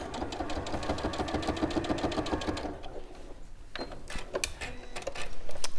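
Close sewing machine stitching an appliqué onto fabric, a fast rattling needle rhythm for nearly three seconds, then stopping, followed by light clicks and handling noises.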